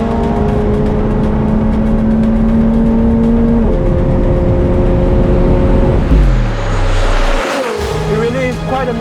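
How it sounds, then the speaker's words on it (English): A McLaren 750S V8 roars hard under acceleration on a track, revs climbing steadily then dropping through a gear change before surging again, loud and close with some tire noise. "just gently put down the accelerator and listen to the V8 roar"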